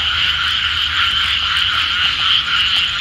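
Many frogs croak in a dense, continuous chorus outdoors beside an old church, loud and steady throughout with no talking.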